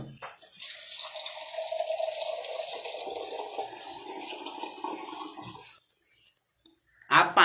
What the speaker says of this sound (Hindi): 1 बड़ा ग्लास जितना पानी ऐड करेंगे